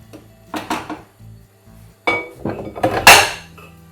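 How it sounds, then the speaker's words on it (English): Steak and onion pie filling is scraped and stirred into a slow cooker, with a few sharp metallic clanks and scrapes of a utensil against the pot in short close bursts separated by quiet gaps. "let's get that into the slow cooker. Give it all a good stir."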